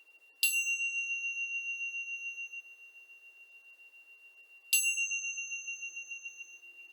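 During a hatha yoga session, a bell is struck twice several seconds apart, and each clear, high ring decays slowly into quiet.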